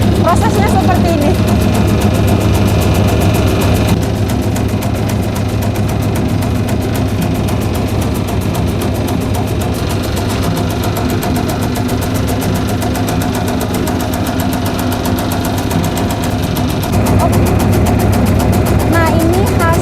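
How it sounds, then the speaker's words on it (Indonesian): A taro beneng leaf chopping machine runs loudly and continuously, a steady mechanical drone with a low hum and rattling, close by, with voices faintly under it. "baru kita masukin ke alat pencacah atau yang namanya rajang. Prosesnya seperti ini."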